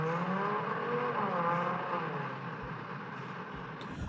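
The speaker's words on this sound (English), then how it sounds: "I don't know if you guys heard in the background that engine revving up." A car engine revving in a parking lot, a steady harmonic drone that rises and falls as it accelerates, heard from a distance and sustained for several seconds.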